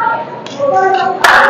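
A single sharp hand clap rings out near the end inside the stone halls of Golconda Fort, following a stretch of voices talking nearby.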